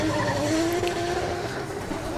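A 500-horsepower drift car launches off the line at British Drift Championship Pro Am qualifying, its engine note climbing steadily and loudly over a wash of tyre noise, with no talk.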